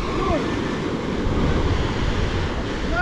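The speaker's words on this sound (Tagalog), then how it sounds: "Ganda ng dagat oh." Sea waves washing onto the shore at Infanta, Quezon, a continuous broad rumble and wash with wind buffeting the microphone, steady and fairly close.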